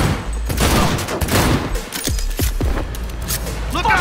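Gunfire and grenade explosions in the video game Cyberpunk 2077, with dense rapid shots and heavy booms sustained throughout, loud and close, as voices shout over the fighting.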